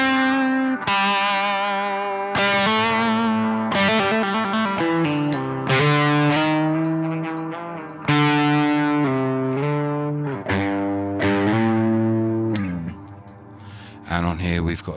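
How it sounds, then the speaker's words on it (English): An electric guitar played through a BOSS GT-1000 wet channel with delay and reverb rings out in a series of sustained, distorted chords and notes, each trailing into echoing tails, close and loud. "on here we've got a delay and a reverb going on"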